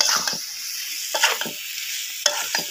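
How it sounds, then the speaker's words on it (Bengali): Boiled potatoes being stirred into fried masala on a clay stove, with scraping spoon strokes in bursts over a continuous bright sizzle, close and moderately loud, no voices. "এখন একটু হালকা করে নাড়াচাড়া দিয়ে দিবে।"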